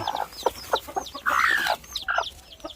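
A mother hen clucks repeatedly while being moved into a nursery coop with her chicks on a farm, loud and close, with rhythmic clucks and one longer, drawn-out call.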